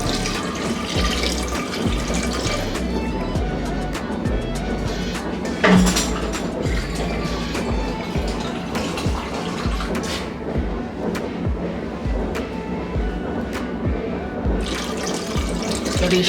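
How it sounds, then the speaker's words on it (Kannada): Water is poured steadily into a pot of washed toor dal for Andhra-style methi pappu, a continuous close splashing and trickling with a brief louder splash partway through, and no talking. "ಈಗ ಬೇಳೆ ಮುಳುಗೋ ಅಷ್ಟು ನೀರು ಹಾಕೊಳ್ಳೋಣ."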